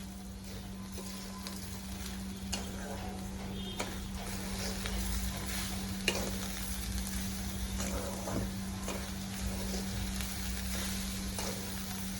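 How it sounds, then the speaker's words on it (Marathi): Grated fresh coconut and sugar are stirred in a pan over low heat for coconut barfi, giving a steady soft sizzle with faint scraping strokes under a constant low hum, and no voices. "मी आता साखर टाकून घेते आणि हे मंद आचेवरच हलवत राहायचं"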